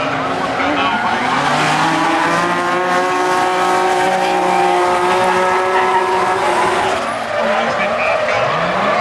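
Drift car at a drift final, engine roaring and tires squealing in a long continuous skid, loud and close, with a commentator talking over it.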